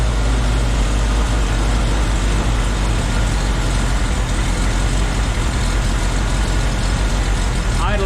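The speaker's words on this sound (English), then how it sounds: "Idle's real funky. Wants to die." An old truck engine idles roughly and unevenly, loud and close, its lumpy rumble wavering as though about to stall.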